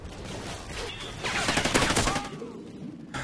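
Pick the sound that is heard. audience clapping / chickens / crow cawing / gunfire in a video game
gunfire in a video game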